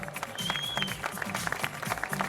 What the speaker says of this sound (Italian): anche per lui l'applauso